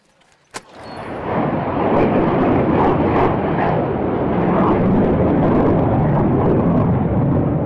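A jet aircraft engine spools up on the Edwards Air Force Base ramp with a loud, steady roar that builds after a sharp click and holds, close and broad, with no talk.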